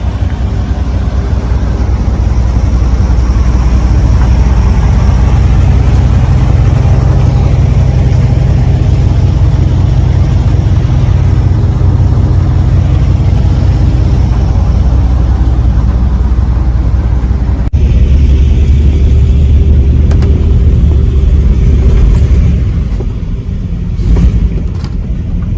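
A Vauxhall Victor car engine labours while driving with the brake on, a loud, steady low rumble and drone that drops briefly before continuing, with a few faint clunks near the end.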